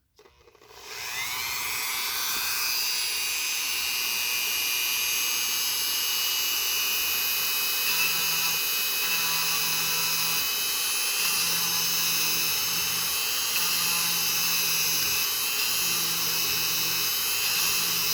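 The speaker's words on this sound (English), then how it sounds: "using a Dremel, so if you are in a quiet place, just turn your volume down for a second or mute" A Dremel rotary tool spins up to a loud, high, steady whine while cutting a hole into a plastic hood, holding its pitch for many seconds with slight load changes as it bites.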